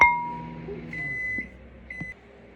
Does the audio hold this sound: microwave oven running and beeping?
yes